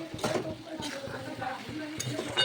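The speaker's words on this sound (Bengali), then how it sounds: "স্বাদ মতো নুন দিলাম আর এখন দিচ্ছি একটু হলুদ ভালো করে কষিয়ে নেব" Fish is stirred and sautéed with salt and turmeric in a pan, with repeated scraping and clinking strokes over a soft sizzle, close and fairly quiet.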